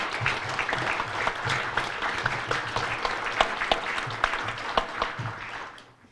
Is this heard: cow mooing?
no